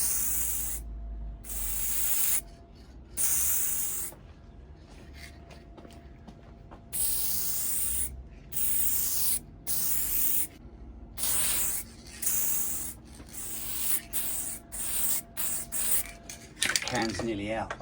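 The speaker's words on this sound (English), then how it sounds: "What I'm going to do is I'm just going to run a dusting over the top" Short repeated bursts of hissing from a metallic spray paint can, dusting a light coat, come in a steady on-off rhythm of a dozen or so presses, fairly close and crisp.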